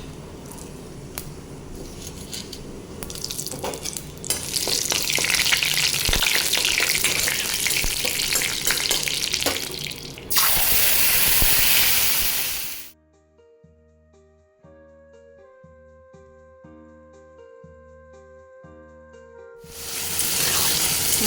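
Bitter gourd sizzles loudly while frying in a pan, with occasional stirring, then drops to a quiet stretch with a soft tonal melody before the sizzling returns.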